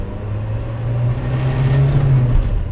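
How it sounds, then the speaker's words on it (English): A van's engine drones as it pulls through second gear, its low hum climbing, dipping briefly during a quick gear change, then rising again with a rumble, close and fairly loud. "And that's a racing gear change."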